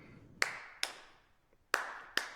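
Four bright claps ring out in a syncopated pattern, two spaced apart, then a gap and two more, each followed by a lingering hall echo; no talking.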